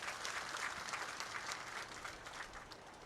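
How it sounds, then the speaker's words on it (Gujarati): A political rally crowd applauds Chaitar Vasava with a dense, continuous patter of many hands, steady and fairly distant throughout. "ચૈતરભાઈ માટે એકવાર આપણે જોરદાર તાળીઓ પાડીએ"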